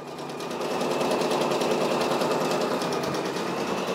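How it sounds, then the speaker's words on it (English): A Brother PRS100 single-needle embroidery machine stitches a patch, its rapid, steady mechanical chatter running loud and continuous at close range for the whole stretch with no talking. "I really like this machine, this Brother PRS100."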